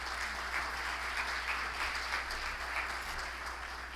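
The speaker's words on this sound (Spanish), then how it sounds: "Vamos nosotros a recibir también con un fuerte aplauso al señor Samuel Conde" An audience at a business forum gives a panelist a sustained round of applause, a dense, even clapping from a full room throughout, with a low hum beneath.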